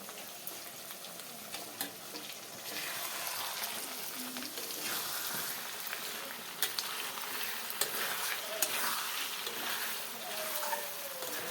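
Broiler chicken curry with raw turmeric, ginger and garlic paste sizzles steadily in a pan while a spoon stirs it, adding intermittent scraping sounds throughout.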